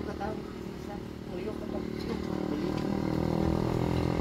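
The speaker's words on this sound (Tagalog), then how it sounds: "Maingay dito kasi may mga motor dumadaan paakyat." Motorcycles climb an elevated hillside road, their engines droning steadily and growing gradually louder as they pass nearby.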